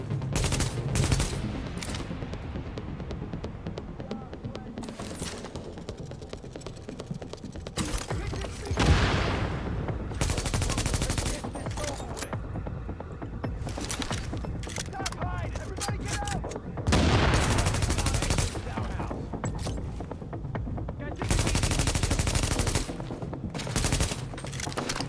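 Sustained gunfire in The Division video game, with loud bursts of rapid shots and heavy single blasts recurring throughout and a voice speaking at times between them.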